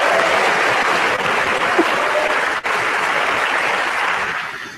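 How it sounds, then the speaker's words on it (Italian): A radio host plays a recorded burst of applause for himself on air: dense, loud crowd clapping that runs steadily for several seconds with a brief dip partway, no voice over it. "Stavolta l'applauso me lo faccio a me stesso."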